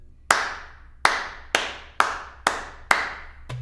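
Six sharp, evenly spaced hollow slaps with short fading tails ring out at a steady pulse, like cupped-palm claps practicing a warm darbuka doom tone.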